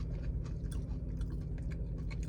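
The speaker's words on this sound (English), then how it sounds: "I'm a little busy trying to chew my food." A person chewing food up close, with soft, steady mouth sounds and small wet crunches running continuously for a couple of seconds, no talking.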